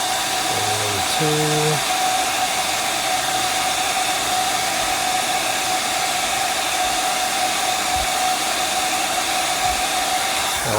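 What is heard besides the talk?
heat gun heating an action figure part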